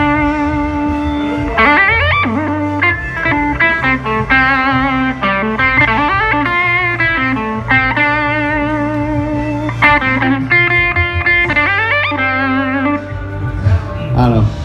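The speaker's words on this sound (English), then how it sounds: "it also has a built-in arpeggiator, which I've been using a lot, to give me cool, synthy, arpeggiated sounds during a jam" Electric guitar run through a Whammy pedal's built-in arpeggiator, giving synthy, rapidly stepping arpeggiated note patterns over a sustained low bass tone, loud and continuous with no talking.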